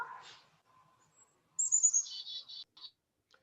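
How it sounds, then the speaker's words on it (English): A chickadee calls in a Seattle park: a few thin, high chirps and a short run of clear whistled notes, fairly near, in a quiet setting with no talk. "Hear a little chickadee."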